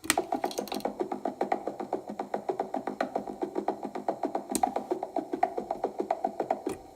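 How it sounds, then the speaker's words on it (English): Rapid, evenly spaced synthesizer pulses from sawtooth-wave modulation with a sharp, ratcheting edge, repeating steadily for several seconds with no voices. "and sawtooth."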